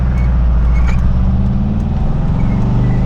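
A 1978 VW Riviera camper with a rebuilt engine drives on, a loud, steady engine drone close by with a low rumble and no talk.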